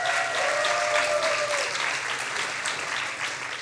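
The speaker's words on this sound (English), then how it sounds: "great applause. Come on, come to me." An audience at a science slam claps warmly for a volunteer from the front row, a full, sustained round of applause that eases slightly as it goes on.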